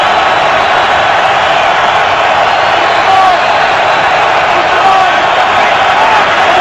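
Dense stadium crowd roar at a New York Jets football game against the New England Patriots, a steady loud wash of cheering and shouting that holds evenly throughout with faint whoops rising near the middle and end.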